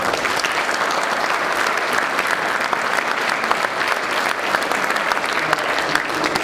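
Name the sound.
audience applause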